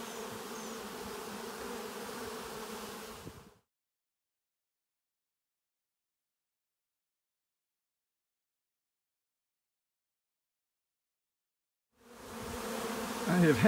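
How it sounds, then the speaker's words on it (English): A honey bee swarm hums in a steady, close buzz, cut off by several seconds of total silence before the droning resumes. "the bees all left the sheet and were starting to swarm again"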